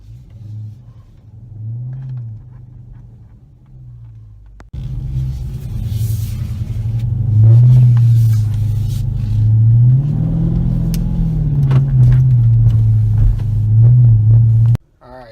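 A brand-new car's engine turns over on automatic remote start, jumping from a quiet hum into a steady, loud, low idling rumble with slight rises and falls. It is heard close by, with no talking.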